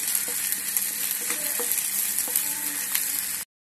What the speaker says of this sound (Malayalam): പച്ചോള് പാടി കഴിഞ്ഞപ്പോ സവാള ഇട്ട് സവാളയും പാടി